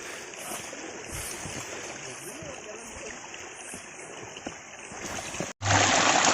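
Mountain river stream on a hiking trail up Gunung Talang, a steady rushing flow heard at moderate distance with scattered splashes and footsteps, ending in a brief cut and a louder burst of water noise.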